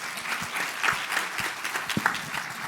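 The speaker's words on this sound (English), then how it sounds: "Give him another round of applause." Audience applauding an honoured guest at an event, a moderate crowd clapping with distinct individual claps standing out, fairly close and uneven.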